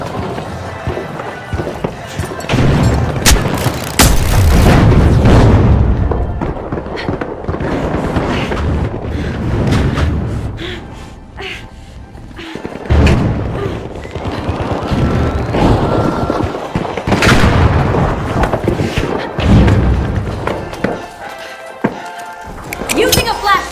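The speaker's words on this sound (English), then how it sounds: "Using a flashbang!" A flashbang grenade goes off in The Finals amid a loud, busy firefight, with repeated sharp bangs and thuds over running game noise while a commentator-style voice speaks.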